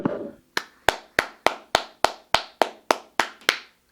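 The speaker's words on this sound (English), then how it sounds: "clap it up for Nitty real fast" Eleven slow, evenly spaced claps at a press conference, each sharp and crisp with a short decay, close and loud with a brief murmur of voices before them.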